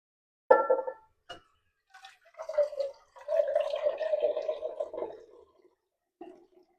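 Water being added to a pot of rajma kidney beans with potatoes, a short splash followed by a longer gurgling pour and a final small splash, close and clear in a quiet setting.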